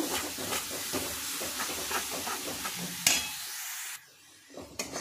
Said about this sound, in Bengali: 2 মিনিট খুব ভালো করে মশলাটাকে কষে নেব।